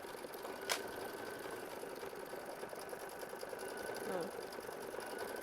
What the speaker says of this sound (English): So it's going to stitch out the wings, the antenna, and then it's going to do the satin stitch on the top of the antenna